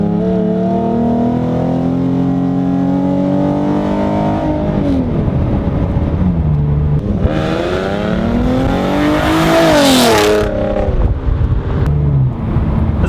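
A 2012 Ford Mustang with a 3.7L V6 and an automatic transmission pulls hard from 40 to 80, its engine note climbing loud and close, dropping at an upshift, then rising again with wind rush.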